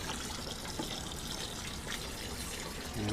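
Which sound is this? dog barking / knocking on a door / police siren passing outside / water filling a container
water filling a container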